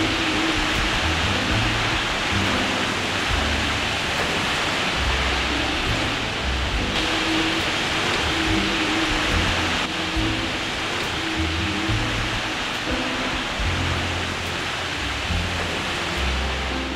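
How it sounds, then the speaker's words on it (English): Heavy rain from Tropical Storm Olga pounding down on and around a sailboat, a dense, steady roaring hiss that stays loud and unbroken throughout, with only a single brief spoken word. "That rain is coming down in sheets."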